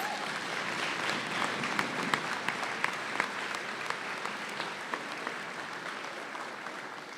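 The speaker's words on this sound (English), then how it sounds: "Please give a round of applause for our many sponsors." Audience applause for sponsors at the Coal Bowl 2025 closing ceremonies, a sustained, even crowd clapping with scattered sharper claps throughout.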